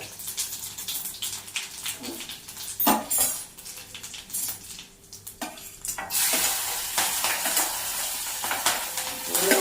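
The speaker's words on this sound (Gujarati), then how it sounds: "સારો વઘાર જ છે, રાઈ જીરું નાખીને વઘારશું" Mustard and cumin seeds crackle and sizzle in hot oil while a small spoon scrapes and stirs against a pan, the sizzling growing louder and more constant toward the end.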